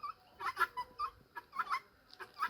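Several turkeys call outdoors on a hillside trek, a series of short, nasal clucking and gobbling bursts repeating in an uneven rhythm at moderate distance.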